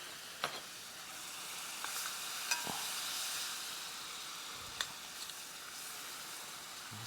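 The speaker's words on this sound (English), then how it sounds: "we're melting our butter and the brown sugar together." Butter and brown sugar melt together in a hot preheated skillet for bananas Foster, a soft continuous sizzle and hiss with a few faint clicks and ticks, no talking.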